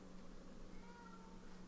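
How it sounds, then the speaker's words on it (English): Pet cat named Pearl meowing indoors, a short soft mew or two close by over a steady low room hum. "Meow."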